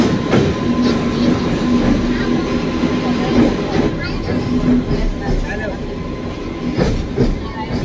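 A train rumbles steadily across the long Kolaghat bridge over the Rupnarayan river, heard from on board as a loud continuous roar with faint wheel clatter throughout.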